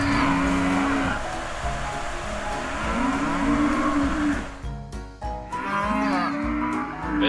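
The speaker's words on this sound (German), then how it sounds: "Da jetzt auch noch Kühe." Several cattle moo in long, drawn-out calls, one low call near the start, another around the middle and a third toward the end, close and loud over outdoor background noise, with a short burst of clatter between calls.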